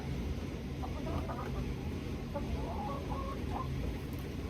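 Chickens clucking inside a greenhouse, a steady series of soft, close clucks and murmurs over a constant low hum, with no talking.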